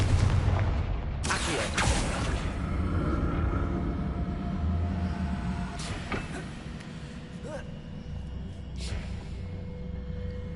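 Confringo fire spell blasts in Hogwarts Legacy, several loud booming explosions with sharp attacks spaced across the stretch, each trailing off into rumbling low-end noise over a steady background.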